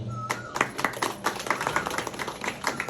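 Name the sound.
audience clapping to pass a proposed name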